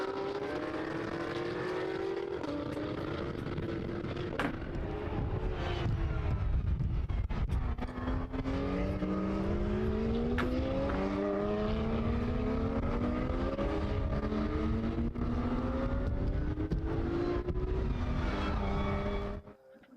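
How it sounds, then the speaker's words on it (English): Porsche race cars on a formation lap at Portimão in the Porsche Sprint Challenge Southern Europe, a continuous loud drone of engines with overlapping rising and falling revs as several cars pass, no talk. "So here they come on their formation lap, and the car's just getting ready for the start of this race."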